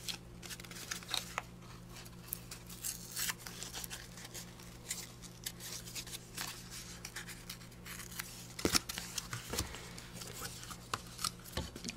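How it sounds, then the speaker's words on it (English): Paper being ripped by hand into a tag shape for a craft project, producing soft, irregular tearing and crinkling bursts spread through the clip with a sharper rip near the end, fairly quiet against a steady background hum. "now I'm just going to kind of rip this so that it's in the shape of the tag"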